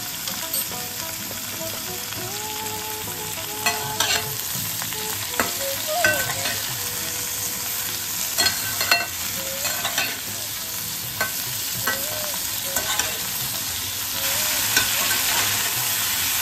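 Turmeric and salt spice masala frying in a pan for lau matar dal, a loud continuous sizzle broken by repeated scraping stirs of a spatula throughout.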